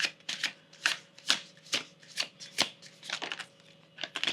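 Tarot cards being shuffled by hand close up, a rhythmic series of crisp riffling swishes and taps repeating about twice a second with no talking.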